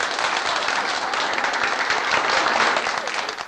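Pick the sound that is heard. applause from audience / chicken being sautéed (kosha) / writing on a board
applause from audience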